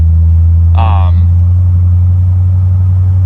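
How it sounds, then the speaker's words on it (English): A 1968 Ford Thunderbird engine idles in a driveway at night with a loud, steady low rumble close by, and a brief tonal chirp cuts in near the start. "I don't want to have the car running in the driveway for too long"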